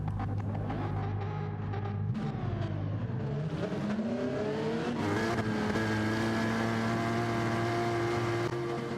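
GR4 race cars roaring off the line at a race start in a racing video game, a dense wall of engine noise with rising revs and pitch climbing as the pack accelerates, loud and steady throughout.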